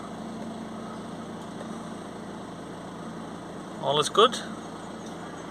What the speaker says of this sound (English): Back inside the van, start her up.